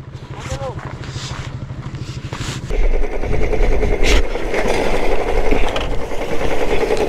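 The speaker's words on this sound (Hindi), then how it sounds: "गाड़ी आ रही है" Vehicle engine on a dangerous mountain road in Spiti Valley, India, a steady motorbike-like putter that gives way to a louder, rougher engine roar, with people talking over it.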